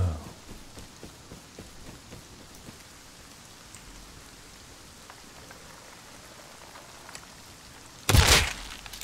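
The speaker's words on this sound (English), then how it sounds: "It's raining." Steady rain in the video game Rust, a soft, even patter throughout, with a sudden loud burst near the end.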